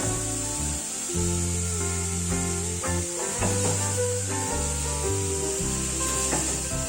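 Meatballs sizzle in a frying pan, a steady broad hiss running throughout beneath background music with occasional soft rubbing and tapping.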